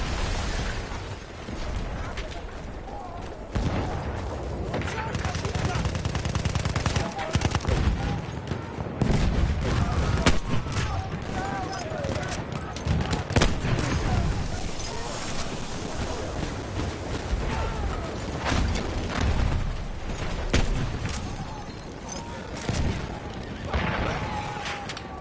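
Sustained machine gun fire and scattered explosions in a war video game, dense rattling bursts mixed with booms at moderate loudness, with voices speaking intermittently over the battle.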